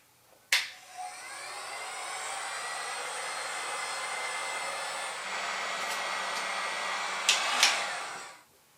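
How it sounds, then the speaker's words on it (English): Heat gun blowing on a sticker, a steady close whirring blower hiss that starts with a click, runs evenly for several seconds, and is switched off with a few clicks. "I might have to bring out the heat gun"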